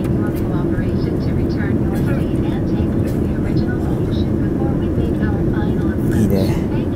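Steady low engine roar fills the cabin of an ANA airliner on a late-night flight to Bangkok before its final landing approach, a constant loud drone with voices talking faintly underneath.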